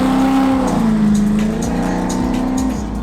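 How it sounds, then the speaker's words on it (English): An Audi R8 LMS GT3 race car engine revs close by, a loud sustained drone that climbs and settles in pitch over a few seconds with rough mechanical texture underneath. "So this is my Audi R8."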